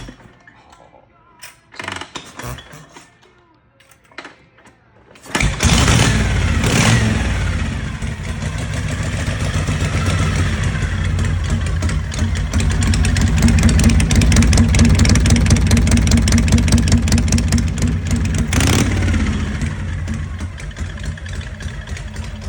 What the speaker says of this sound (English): 1961 Harley-Davidson Pan Head.